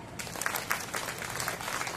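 An audience at an education conclave event applauds, a steady spread of many hands clapping at moderate distance, fairly soft and continuous.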